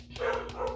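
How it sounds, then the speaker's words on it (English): A pet dog barks a few times from another room, short muffled yelps close together, fairly faint indoors. "There goes my dog."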